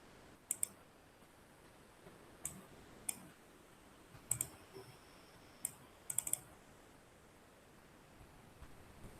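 Computer mouse clicks while editing audio in Adobe Audition, sharp isolated clicks and quick double clicks spaced irregularly over faint background hiss, no talking.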